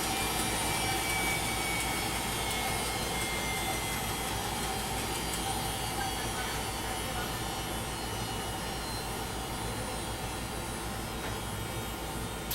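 A lab centrifuge spins down a blood sample with a steady loud whirring hum and broadband rush that holds constant throughout.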